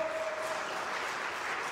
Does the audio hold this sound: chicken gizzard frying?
no